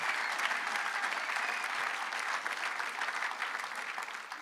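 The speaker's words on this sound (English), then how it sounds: "You're supposed to applause." A crowd at a live event in Fredericton applauds steadily, a thick continuous patter of many hands at moderate volume that never pauses, with only faint traces of voices underneath.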